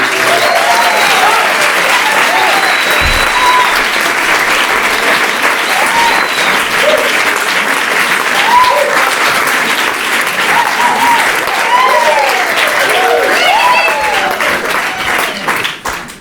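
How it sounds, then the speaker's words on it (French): Loud, sustained applause from a theatre audience after a storytelling performance, a thick roar of clapping with scattered whoops and cheers rising through it before it tapers off near the end. "Messieurs, mesdames, applaudissez"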